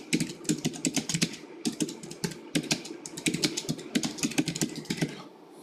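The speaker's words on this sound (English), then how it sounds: "So if you type in a message," Rapid typing on a computer keyboard while entering a Microsoft Teams status message, with dense clicky keystrokes in quick runs and short gaps, near and alone without speech.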